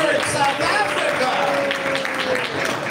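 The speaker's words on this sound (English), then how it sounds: "A round of applause for Johannesburg, South Africa." A crowd applauds at a live Chanukah broadcast event, steady clapping filling the clip with a voice audible faintly underneath.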